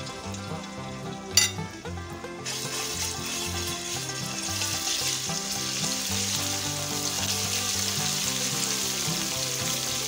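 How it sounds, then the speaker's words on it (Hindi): Garlic and ginger paste sizzles steadily in hot oil in a pan, a continuous frying hiss with faint stirring scrapes and one brief clatter near the start, heard alone without talk. "ऑयल में से अच्छी तरह फ्राई कर लेंगे।"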